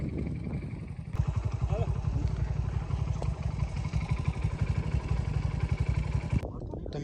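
A motorcycle engine labours close by while stuck in mud with its rear tyre jammed, revving in a rough, pulsing drone for several seconds before cutting back.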